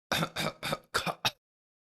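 A voices an imitation of a cough, a run of five short, sharp bursts in quick succession, close and fairly loud, followed by silence.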